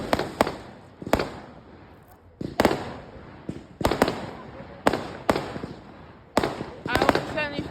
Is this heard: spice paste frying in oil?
no